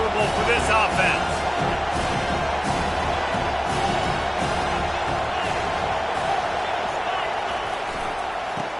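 A stadium crowd at an American football game keeps up a loud, continuous roar against the offense, with scattered thumps and whoops rising out of the wash and voices talking over it throughout.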